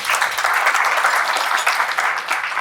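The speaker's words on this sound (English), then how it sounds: "I think let's give each and every one of us a round of applause." An audience at a gathering in Nairobi breaks into lively applause, a loud, dense patter of many hands clapping steadily for a couple of seconds with no voices on top.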